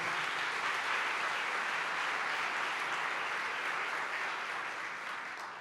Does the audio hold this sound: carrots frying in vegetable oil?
no